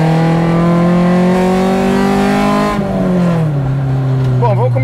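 Lightened Honda Civic with a DOHC B16 engine from the VTi, accelerating on an open road: a loud, steady high-revving drone climbing in pitch, then dropping as it shifts before pulling again, close and continuous.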